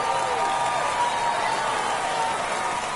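Home crowd at a baseball game cheering and applauding after a home run, a dense, steady roar of many voices and clapping throughout, loud and continuous without a break.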